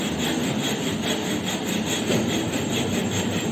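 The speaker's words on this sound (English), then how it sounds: "We are using tiny saw, it's a finer saw, to cut the piece into two parts" A fine hand saw cuts through a wooden piece in a carpentry shop, with steady rasping back-and-forth strokes that are close, loud and continuous, and nobody talking.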